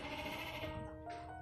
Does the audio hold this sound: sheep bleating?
yes